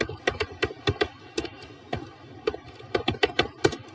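Typing on a computer keyboard during a website development workshop, with irregular clusters of crisp close key clicks and brief pauses between bursts.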